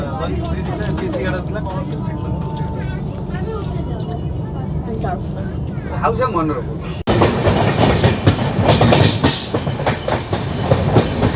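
Shalimar–Puri express train rolling into Kharagpur station, a steady rumble and rattle of carriages that swells louder partway through, with a voice talking over it.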